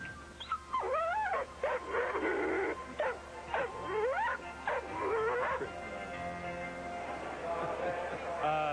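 A dog whimpers and whines in rising, wavering cries, several in a row, with short yips mixed in, fairly close by, at a 1997 NTPA tractor pull in Tomah, Wisconsin.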